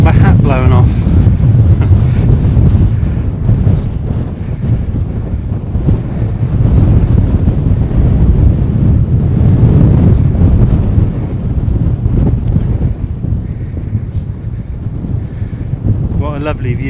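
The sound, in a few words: strong wind on a hilltop, wind noise on microphone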